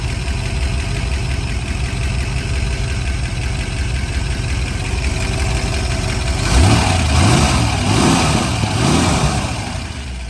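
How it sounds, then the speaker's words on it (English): A 1966 Shelby GT350's 289 Hi-Po V8 idles steadily up close with a busy, ticking solid-lifter clatter, then a few blips of the throttle swell the engine note near the end. "That's a solid lifter noise. That's exactly what you want to hear out of a 289 hypo."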